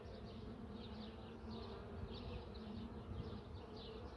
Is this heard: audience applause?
no